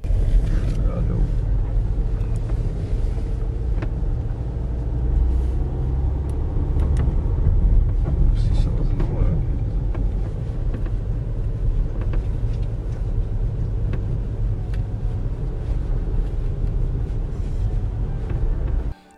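A car rumbles steadily along a dirt road through a wooded area, the low engine and tyre noise continuous and fairly loud, with people talking over it.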